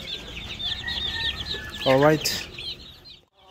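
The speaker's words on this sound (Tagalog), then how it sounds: "ang natitira na lang dito ay itong mga sisiw natin" Farm chickens and chicks cluck and peep in a steady chatter, with one louder hen call standing out partway through, while a person briefly speaks nearby.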